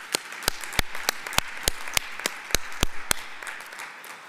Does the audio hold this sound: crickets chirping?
no